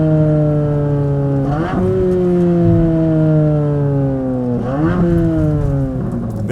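A Chevrolet Corvette C8 Z06 engine holds a loud, steady high-revving tone, then blips and drops pitch at two downshifts a few seconds apart, heard close with no talking.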